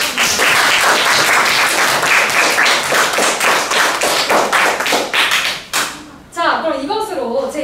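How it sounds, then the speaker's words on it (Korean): An audience of students and adults at a Korean reading-debate contest applauds loudly and closely for several seconds, then the clapping fades and breaks off, followed by a brief thud and a spoken voice. "서로에게 박수 한 번 더 부탁드립니다."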